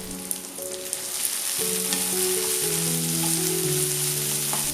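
Spice paste sizzles and fries steadily in a pan as a filling of shredded tuna for layered pastry is cooked, a loud continuous crackling hiss with soft tonal background music underneath.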